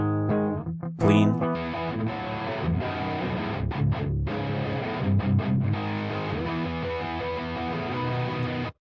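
An electric guitar runs through a free Plugin Alliance distortion plugin set for a breakup tone, playing sustained, gritty, overdriven chords continuously for about nine seconds before cutting off abruptly.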